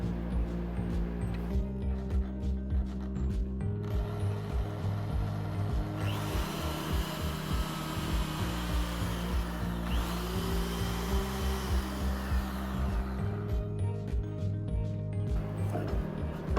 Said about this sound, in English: That made quick work of drilling the larger diameter with a Forstner bit.